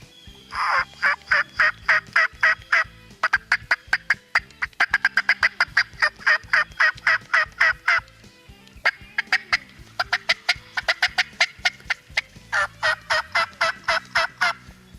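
Young male wild turkeys gobble in rapid, rattling bursts, one volley after another, close and loud in an open field, with short gaps between the calls.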